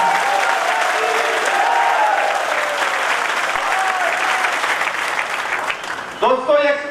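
Loud, close audience applause at a political speech in Kurukshetra, a dense burst of clapping and crowd noise that gradually thins out before a voice begins speaking near the end.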